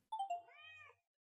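A cartoon cat meows once in a cozy hidden-object video game set in London, a short, clear, rising-then-falling call heard alone against silence.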